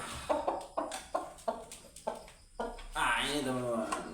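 A chicken clucks in short repeated bursts close by, followed by a longer, louder squawking call near the end.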